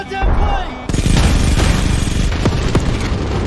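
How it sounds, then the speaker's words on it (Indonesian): A burst of rapid, heavy gunfire from fighter jets in a film, with booming impacts, loud and chaotic, following a brief quieter moment at the start. "pesawat tempur milik kelompok Victor langsung memberikan tembakan bertubi-tubi"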